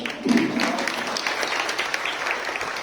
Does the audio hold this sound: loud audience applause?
yes